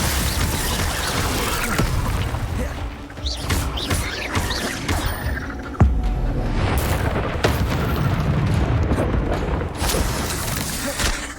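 Confringo fire spell blasts in Hogwarts Legacy on PS5, a series of loud booming explosions and crashes over continuous game rumble and music, with a heavy impact near the middle.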